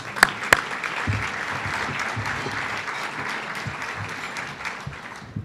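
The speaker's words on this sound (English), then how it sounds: "I think we need to give a round of applause" Audience clapping at a breakfast during a conference Hall of Fame induction ceremony, a steady sustained round of applause from a large room, with two sharp knocks at the start and little talk.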